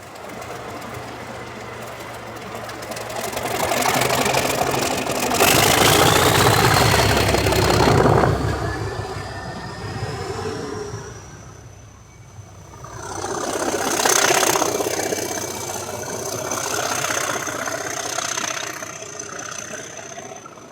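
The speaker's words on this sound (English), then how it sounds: "She certainly sounds magnificent as she departs for Kidderminster." Railway locomotive on the Severn Valley Railway departing for Kidderminster, refurbished after 2010: loud, close engine roar that swells, eases and swells again, with a rising whistle-like tone and rhythmic rail clatter.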